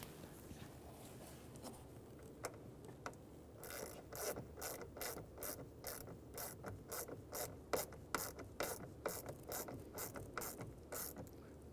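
A small screw is ratcheted tight on a blend door actuator during HVAC work on a 2011-2019 Ford Explorer, giving a near, steady run of crisp clicks that start sparse and then repeat quickly and evenly, with nobody talking.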